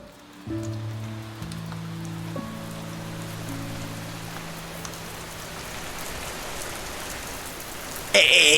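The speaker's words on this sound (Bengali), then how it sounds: "এই দেখেছেন বৃষ্টিটা শুরু, এই পুরো ভিজে যাবো" Steady rain patters and hisses over an outdoor scene, with a sustained musical tone fading in the background and a loud bright burst of noise at the very end.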